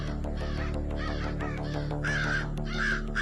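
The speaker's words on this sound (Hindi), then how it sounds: "कौवा बहुत मन रहा है।" A crow caws repeatedly in a forest, loud and close, with a steady low hum running underneath.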